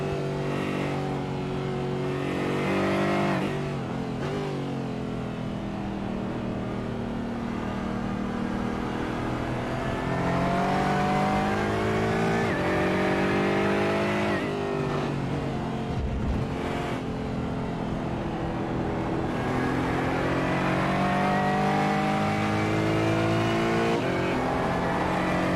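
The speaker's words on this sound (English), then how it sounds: "I do love the sound of this GT4 as it rolls around here." A GT4 race car engine drones steadily as it laps a circuit, loud and continuous with rising and falling pitch through gear changes, a brief dip midway, then building again.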